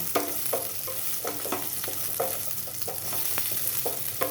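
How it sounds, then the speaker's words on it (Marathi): Capsicum sautéing in a little oil in a kadai, a steady close sizzle broken by repeated scraping stirs at an uneven rhythm, with no voices. "थोड्याशा तेलामध्ये ही जी सिमला मिरची घेतली ती मी थोडी परतून घेणार आहे."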